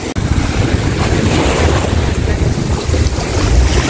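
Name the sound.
motorboat driven on the sea, Maafushi, Maldives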